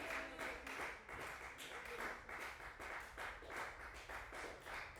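A church congregation claps steadily in a continuous rhythmic patter, with voices acclaiming underneath, the whole sound fairly faint and distant.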